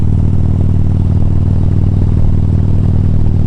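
A Harley-Davidson Sportster motorcycle engine runs steadily close by, a loud, continuous low rumble with a slightly uneven, lumpy pulse throughout and no voices.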